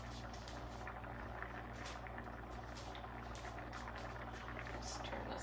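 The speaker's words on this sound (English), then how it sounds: "just gonna let this simmer through a little bit longer" Thai coconut soup simmers in a pot, a steady close bubbling and gurgling with fine popping crackle that holds evenly throughout, with no voices over it.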